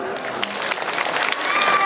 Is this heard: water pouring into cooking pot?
no